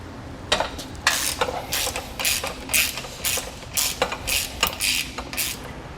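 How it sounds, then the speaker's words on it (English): A socket wrench ratchets out the mounting bolts of an electric trailer jack, with repeated short bursts of close, loud clicking at a steady rhythm. "just go ahead and take the appropriate socket size and remove these 3 bolts"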